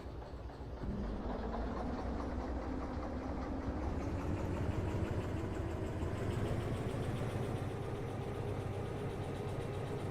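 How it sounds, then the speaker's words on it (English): A locomotive in the train simulation game Derail Valley idles with a steady, low diesel rumble and drone, heard alone and unchanging for about ten seconds. "Believe that I can actually shut this other locomotive down right now"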